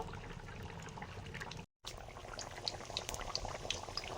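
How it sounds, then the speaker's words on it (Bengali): Taro leaves are stirred in mustard oil in a wok, giving a steady close sizzle and crackle with soft scraping, continuous apart from a brief gap. "এবারে ওল পাতাগুলো কড়াতে নেড়ে নেব"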